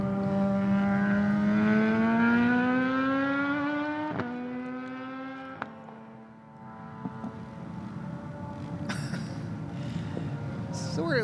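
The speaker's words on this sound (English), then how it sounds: "It's hard not to laugh just hearing these kids just revving their bikes wide open." Kids' mini motorcycles rev wide open at the MotoAmerica Mini Cup National Final, with high engine whines climbing and dropping in pitch as several bikes scream past, loud and near, then a fresh burst of revving.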